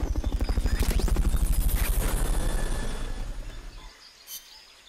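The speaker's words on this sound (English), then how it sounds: "Fulton recovery to helicopter is complete." In Metal Gear Solid Peace Walker, a helicopter during a Fulton recovery thumps with rapid, loud rotor beats that fade away, leaving faint chirping in the background.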